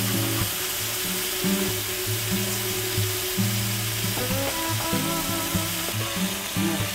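Shrimp and grated coconut fry steadily in a pan, a continuous close sizzle with occasional stirring scrapes and clinks, no talking over it.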